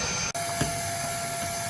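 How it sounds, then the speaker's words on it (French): A vacuum cleaner runs steadily over a plywood subfloor inside a Scudo van conversion before PVC flooring goes down, a loud continuous roaring hiss with a brief dropout near the start. "un coup d'aspirateur pour que le sol soit bien propre"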